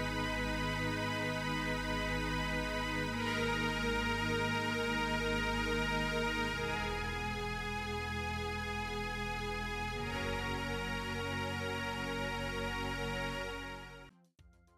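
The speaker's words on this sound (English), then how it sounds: "here is what the main chords sound like all together" Lush synthwave chords from FL Studio plugins play together in sustained, bright layers, changing every few seconds, then cut off abruptly at the end.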